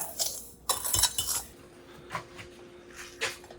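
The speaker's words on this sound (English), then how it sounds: "I'm just stirring these together so everything is blended." Softened apples stirred in a metal pot, with scattered clinks and scrapes of a utensil against the pot and soft squishy movement, close and fairly quiet.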